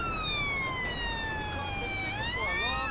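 Police car siren in GTA 5, UK police mod, wailing steadily in long rising and falling sweeps, loud and close, then turning into a quicker warble near the end over low engine rumble.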